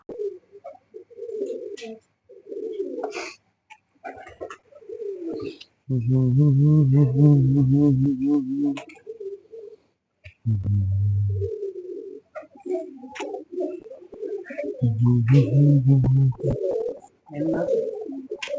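Pigeons coo close by in several deep, throaty bouts, with pauses and small rustling noises between them.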